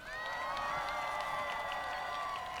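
Crowd of supporters at an outdoor labor rally applauding and cheering for dismissed Isu company workers, steady dense clapping with shouts and whoops throughout, loud and continuous.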